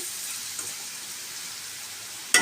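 Whole spices fry in hot oil in a pan before the onions go in: a steady, fine hissing sizzle throughout, ending in a sudden short clatter.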